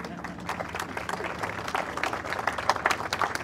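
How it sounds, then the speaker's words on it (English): An audience at an aircraft unveiling bursts into brief, scattered applause, a dense patter of clapping at moderate distance. "Worthy of a round of applause."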